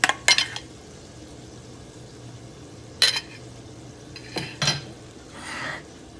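Mayonnaise being scooped and tapped into a serving vessel in a kitchen, with a few close clinks of a utensil against the dish and soft scraping, spaced out over quiet background.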